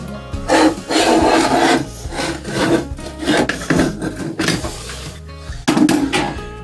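A countertop in a trailer kitchen being cut around the sink, giving loud, close rasping strokes in uneven bursts with short pauses between them.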